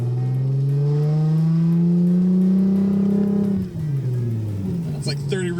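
A modified Lexus IS350 accelerates on a street, the engine note climbing steadily and loud for several seconds, then dropping as the revs fall and rising again near the end, with no talk.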